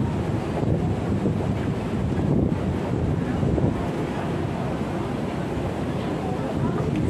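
Strong wind sweeps through Hong Kong Park and buffets the microphone with a steady, rumbling, gusty rush that lasts throughout.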